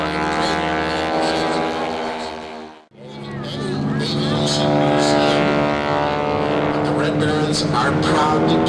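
Stearman biplanes of the Red Barons fly tail chase maneuvers at an airshow, their piston engines and propellers droning loudly with a brief dip as one passes, under an announcer talking.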